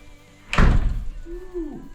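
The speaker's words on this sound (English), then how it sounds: "we have a really nice operating, closing, sealing door" A tightly fitted, spray-foam-sealed door shuts with one loud close thunk, followed by a brief creaky rubbing sound as it settles.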